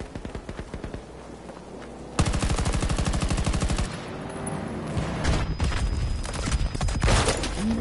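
Battlefield 2042 gunfire, rapid automatic bursts with a very dense, fast-rattling stretch in the middle, then scattered heavier shots and mixed combat noise, loud and continuous with no talk over it.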